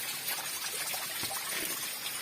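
Water from a naula spring in Uttarakhand pours out as a steady, loud, broad rush during heavy flooding, heard up close without any voices.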